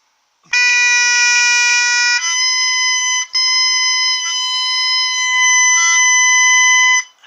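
A bagpipe chanter fitted with a bright ridge cut reed on a lower-pitched Nile chanter sounds a loud, shrill, steady tone with sustained notes and brief breaks, alone and close.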